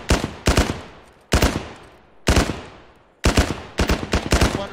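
A Mark 48 machine gun in ARMA fires in short, sharp bursts, loud close cracks with ringing decay between groups, rattling out several quick volleys in uneven rhythm.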